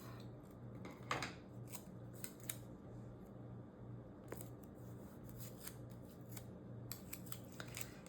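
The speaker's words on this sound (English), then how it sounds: "I'm gonna trim this one in half." Scissors trim a sheet of paper in half for a planner page, a series of soft, close snips scattered over a quiet, steady background hum with no voices.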